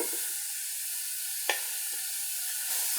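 Minced garlic sizzles in a pan alongside chicken and mushroom meatballs, a quiet, steady hiss with a couple of brief utensil taps.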